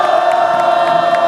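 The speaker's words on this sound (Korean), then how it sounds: "시민 여러분들의 힘찬 함성과 박수로 모시겠습니다." Crowd at an Incheon anti-government rally in Korea cheering loudly and steadily as a labor union regional leader is welcomed to the stage, a dense wall of shouts and whoops with no pauses.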